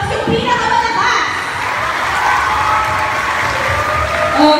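A school audience gives a loud, sustained round of applause and cheering for Army First Aid at a school tour event, with a crowd of clapping and shouting filling the hall continuously.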